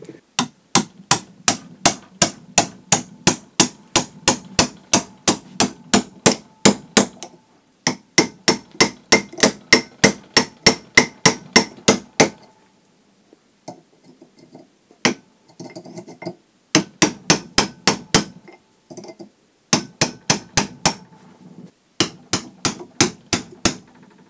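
Sharp hammer taps drive a part of a leaking Land Rover Defender 300Tdi steering box into place, struck in fast rhythmic bursts of about a dozen blows each with short pauses between, loud and close with a slight metallic ring.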